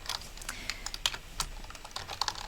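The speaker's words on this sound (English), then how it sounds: "the actual sound of the typing" Rapid typing on a computer keyboard, sharp uneven key clicks in quick bursts, close and alone with no voices.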